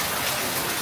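Steady rain pours down, a dense close hiss of drops with no voices, briefly heard.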